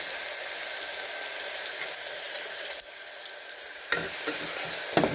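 Onion frying in hot oil with mustard seeds and cumin, a steady close sizzle with a short dip near the middle and sharper stirring scrapes toward the end.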